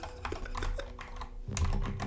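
Fast, steady typing on a computer keyboard while code is being written, with dense clicking keystrokes throughout and a low hum coming in partway through.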